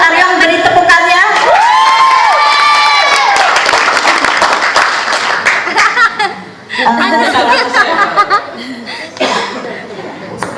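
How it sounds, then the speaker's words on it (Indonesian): An audience applauds with cheers and chuckles, loud and close at first, then thinning as people talk over it. "Gimana untuk Aryan, beri tepukannya?"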